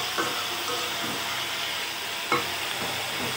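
Vegetable curry fries in a pan with a steady, close sizzle and hiss, cooked until slightly charred. A few soft stirring scrapes sound over the continuous frying.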